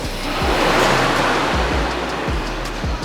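A BMW E46 race car engine idles rough while still cold, a loud, steady low rumble with uneven pulses and a few deeper lurches, no talking over it.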